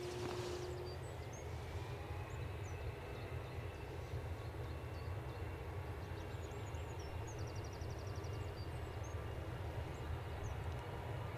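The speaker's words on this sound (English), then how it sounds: "Sound of planes and bird song." Aircraft at Edinburgh Airport make a steady, distant engine rumble that fills the whole stretch, with faint bird chirps scattered above it and no talking.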